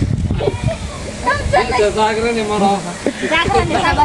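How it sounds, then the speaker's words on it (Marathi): Heavy rain suddenly pours down on a village gathering, a steady broadband hiss running under loud, overlapping conversation throughout. "ते पाऊसच पडायला लागला धो धो"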